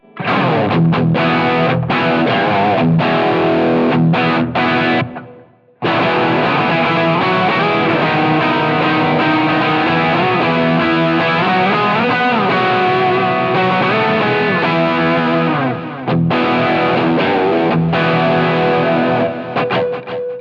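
Overdriven electric guitar on the bridge pickup with delay repeats, bright and biting, playing sustained chords and riffs with a brief pause near the start.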